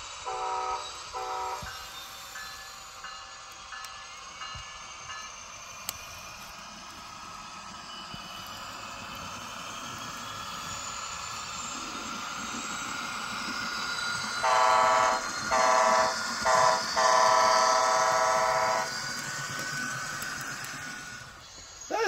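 An N-scale model Amtrak diesel locomotive runs with a soft, steady motor whir, and its horn sounds in a short burst near the start and a longer series of blasts later on, with no talk.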